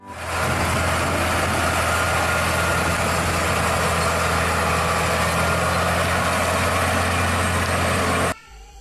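Toy trailer truck giving a continuous loud engine rumble like an idling truck, steady for about eight seconds and then stopping suddenly.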